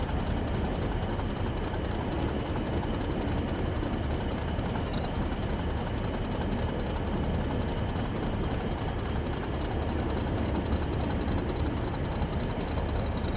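Class 40 'Whistler' diesel locomotive running on the West Coast Main Line in Train Sim World, a steady rumbling drone with a faint high whine held at even loudness throughout.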